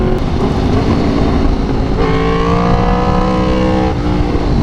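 A motorcycle engine revving and accelerating, a loud steady drone that climbs in pitch through quick gear shifts, with two distinct shifts and no talk over it.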